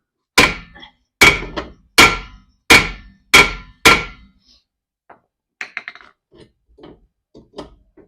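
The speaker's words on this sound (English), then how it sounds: "Got the big hammer" Six heavy, evenly spaced blows of a big hammer ring out loudly up close during a car repair, followed by quieter scattered clinks and knocks.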